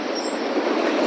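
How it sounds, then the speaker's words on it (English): A Norfolk Southern freight train with a DPU locomotive passes close by at night with a loud, continuous rolling roar. High squeals come from the wheels. "I can hear the DPU coming up"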